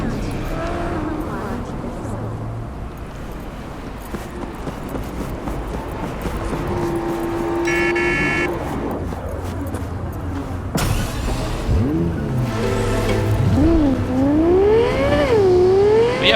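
A car in the video game Cyberpunk 2077 pulls up and drives off, its engine whirring and revving with rising and falling pitch, steady and fairly loud under a game soundscape.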